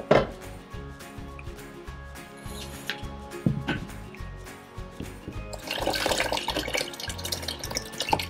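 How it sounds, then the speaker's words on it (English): Paper pulp poured into a large shallow plastic basin, wet sloshing and splashing that swells toward the end, with scattered knocks and clatter of the container. "When your paper is pulped, pour it into a large shallow basin or plastic bin"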